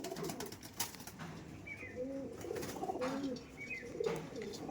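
Andhra pigeons, both adult birds and young ones, coo softly in a repeated, low rhythm nearby, with light background noise and no talking.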